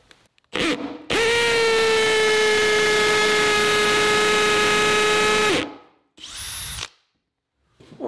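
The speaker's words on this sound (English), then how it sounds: "I've got the drill and the hammer setting, and you'll notice that the drill is louder." A cordless drill on hammer setting runs in a loud, sustained whine for several seconds, preceded by a brief burst and followed by another short run.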